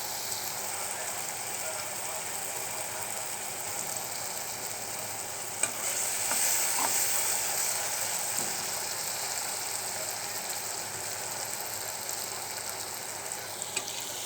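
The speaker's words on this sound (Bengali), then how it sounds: "মশলাটা আর একটু কষুক, তারপর মাছগুলো দিয়ে দেবো," Spices for kechki fish fry steadily in a pan with a constant close sizzle, broken by occasional light scrapes and clinks of a stirring spoon.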